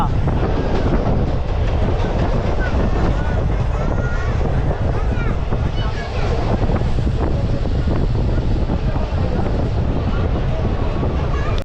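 Fast passenger train on the Digha line pulling into Mecheda station, a loud, continuous rumble of carriages with wheel clatter and wind buffeting throughout, voices faintly audible.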